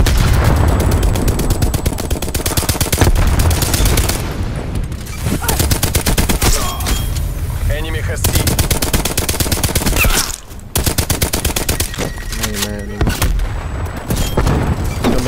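Light machine gun fire in Black Ops Cold War, loud sustained bursts of rapid automatic shots with short pauses between strings, dense and continuous across the span.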